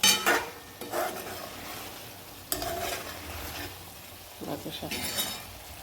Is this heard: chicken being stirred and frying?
yes